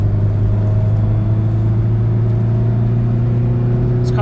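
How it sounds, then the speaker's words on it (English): Steady engine drone of a car cruising in fourth gear on a rideshare drive, a constant loud hum and rumble heard from inside the cabin with no talking. "This car is a lot of fun to drive."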